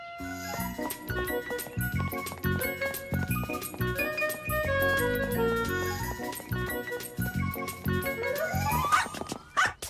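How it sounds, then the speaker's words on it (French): A small cartoon dog yips and barks over busy music with jingling tones, the barks brief and partly buried in the mix. "Il est drôle, ce chien."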